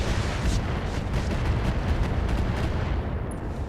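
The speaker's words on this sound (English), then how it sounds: "we're going to fire on this Kingfisher, and that's very likely a knockdown" Mech weapons in the RogueTech video game fire at a Kingfisher, making a continuous dense roar of gunfire and explosive rumble with faint rapid pulses, loud and steady throughout.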